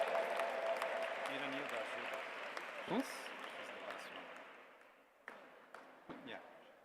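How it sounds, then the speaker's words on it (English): Distant audience applause at the G20 Interfaith Summit fills the room with a steady, soft clatter that gradually fades, with a few louder claps and a brief voice. "Let's give them a big round of applause"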